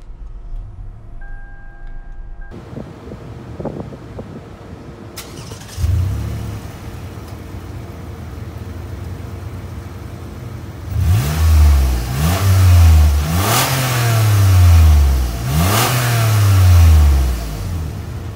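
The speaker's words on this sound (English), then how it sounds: "And that's how you start your Lexus RX 350" A 2010 Lexus RX 350 SUV with 128,000 miles is started by push button. The engine catches and settles into a smooth idle, then is revved repeatedly in a rising and falling rhythm, heard close up.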